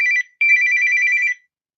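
A phone ringtone sounds close and clear: one short ring, a brief gap, then a longer ring before it stops.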